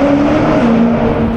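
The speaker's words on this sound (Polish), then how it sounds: "nagle uchwyciłem jakiś przejazd sportowych samochodów" Sports cars sweep past on a street, a loud, steady engine roar with a falling tone as they go by, close and continuous for over a second.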